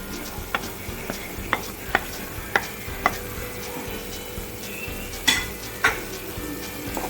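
Ground cumin, coriander and dried chilli powder masala fries and is stirred in a pan for paneer in yogurt gravy, giving a steady close sizzle broken by regular scraping stir strokes and a few louder clanks.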